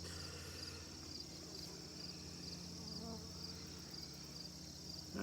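Bees buzz steadily around an open hive holding two queens, a continuous close hum of many insects with no talking.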